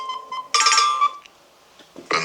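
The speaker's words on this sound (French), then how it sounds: "Putain de téléphone, Nardine." A phone rings with short, bright electronic chirps that stop and start again, loud and close in a quiet room.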